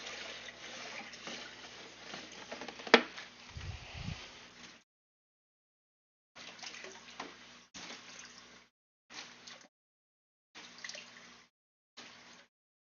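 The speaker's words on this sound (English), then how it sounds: "I'm going to dump this into this bottom tank." Half a jug of RO water is dumped into the bottom tank of an aquarium setup. The pour is a close, steady rush that runs for about five seconds, then comes back in several short splashing bursts separated by silence.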